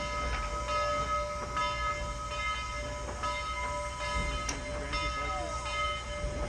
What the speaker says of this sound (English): our locomotive is going to go past our train and then through a switch